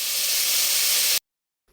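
Onion sautéing in a pan for an okra stew: a loud, close, steady hiss of sizzling lasts about a second, then cuts off abruptly into silence.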